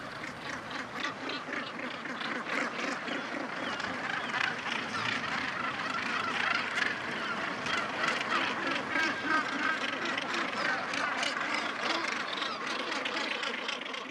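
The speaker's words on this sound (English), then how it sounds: "We have entered the kingdom of the seabirds." A seabird colony calls from jagged cliffs on the Irish west coast, a dense, continuous chorus of harsh cackling cries at moderate level, with no voices over it.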